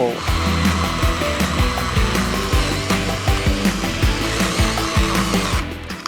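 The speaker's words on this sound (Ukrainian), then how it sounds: "А ми продовжуємо опилювати наш пінь" A cordless DMS-201BC chainsaw cuts steadily into a tree stump, its motor whining with a loud, continuous buzz that pulses rhythmically as the chain bites through the wood, easing off at the end.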